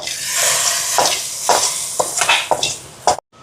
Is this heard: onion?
yes